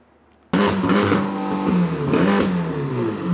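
A car engine fires up abruptly after a moment of near silence, then revs loudly and steadily with rising and falling engine tones. The vehicle is either a van or a Ferrari, and no voices are heard.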